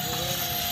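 A helicopter hovers close by a house, its engine and rotors producing a loud, steady droning roar with a dense whine above it throughout the short moment.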